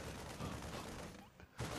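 Explosion in a StarCraft II match between herO and ByuN, a dense, sustained roar of blasts and crackling detonations that briefly dips before a sharp final burst.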